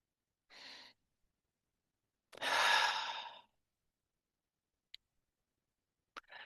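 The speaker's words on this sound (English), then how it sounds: "So take a breath with me." One person takes a slow, deep breath close to the microphone: a soft inhale, then a longer, fuller exhale, followed by a couple of faint clicks in a quiet room.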